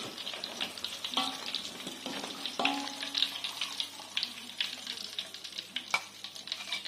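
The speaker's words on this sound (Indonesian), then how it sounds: "Dan kita lanjut ke penggorengan selanjutnya sampai selesai." Vegetable-stuffed tofu fries in hot oil, giving a steady close crackle and sizzle with occasional pops and scraping stirs, and no talking.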